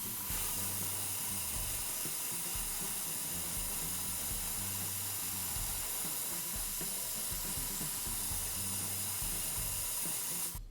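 A wet coat of Mr. Color lacquer being airbrushed onto Gundam model kit parts, a continuous, even hiss of spray that runs unbroken for several seconds and then cuts off abruptly.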